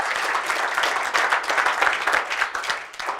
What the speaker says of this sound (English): Give yourself and each other a round of applause.